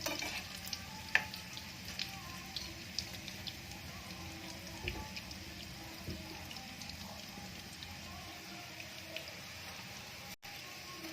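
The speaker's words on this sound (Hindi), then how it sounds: "फिर दूसरा साइड भी इसका सिक जाए, ब्राउन हो जाए" Bread rolls fry in a pan, browning on both sides, giving a steady soft sizzle with faint crackles and occasional light clinks throughout, without any talking.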